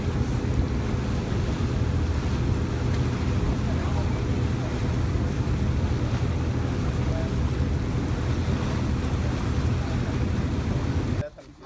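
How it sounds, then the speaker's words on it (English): Wind blows steadily across a lake in Israel ringed by rising terrain: a loud, continuous roar and buffeting with a wash of waves underneath, ending abruptly. "The rising terrain generates a type of wind on this lake"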